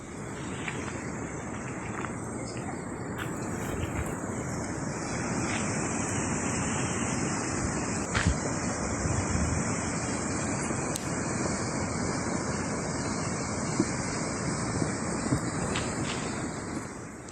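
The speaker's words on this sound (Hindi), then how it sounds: "देखिए बारिश के बाद सैलाब सब कुछ बहाने पर आमादा है।" Floodwater rushes through a Spanish city street after heavy rain, a steady broadband roar of churning water that holds at an even, fairly loud level throughout with no voices.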